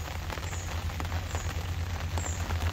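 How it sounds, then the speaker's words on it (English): Steady rain falls at a fishing lake, a dense continuous patter of drops on nearby surfaces with faint individual taps, loud and close throughout with no talk. "as you may be able to hear, rain has set in."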